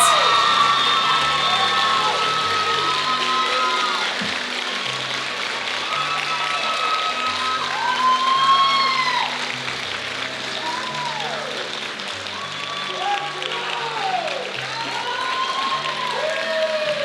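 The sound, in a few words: crowd applause and cheering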